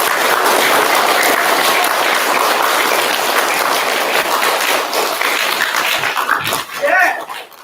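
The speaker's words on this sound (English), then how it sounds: "Can we give our teachers a big clap?" Loud, dense clapping from a fourth-grade class and audience thanking their teachers, close and continuous with a few sharper taps, thinning toward the end as voices begin.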